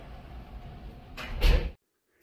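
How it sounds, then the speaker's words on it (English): A Ditec HA7 automatic door operator whirs and slides the door open over low machine hum, ending with a soft thud before sudden silence. "another button right here that will allow the door to operate"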